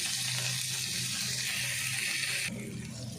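Sliced tomato sizzling in a pan with oil for an Andhra-style spicy chicken curry, a steady close frying hiss that drops in intensity partway through.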